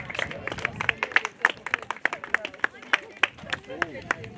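Audience clapping at a running-event awards ceremony, a scatter of sharp individual claps with irregular rhythm over low crowd murmur, moderately loud and close.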